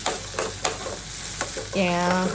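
Chili powder stirred into hot oil for tempering a vegetable dish, giving a close sizzle broken by several sharp scraping strokes of a spoon, then a brief tonal squeak near the end.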